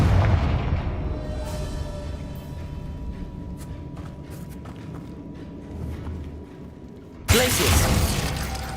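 A fiery Confringo spell explosion in a game bursts out loud and sudden near the end, after a stretch of low rumbling game ambience.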